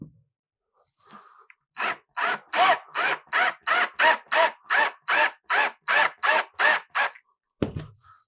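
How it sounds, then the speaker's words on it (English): A power drill bores anchor holes into a wall during a thermostat install, with about fourteen short, evenly spaced bursts of drilling in quick succession, fairly close and clear against a quiet background. "we're gonna drill just a few anchor holes in here really quick"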